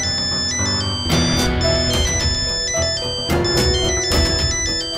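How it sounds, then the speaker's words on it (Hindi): A phone ringtone plays loudly and continuously, a bright melodic electronic tune repeating its short phrases with no voices over it. "घर से है फोन, बीवी का होगा, उठा लो, बात करो।"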